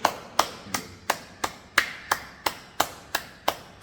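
Hands clap sharply about ten times at a slow, even pace, each clap crisp and close with a short decay, no voices over them.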